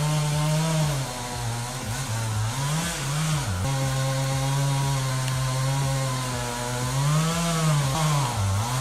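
A Husqvarna 395 XP chainsaw runs steadily at high revs while felling a hazardous dead tree, with a close, loud engine whine whose pitch dips and recovers several times as the bar loads in the wood.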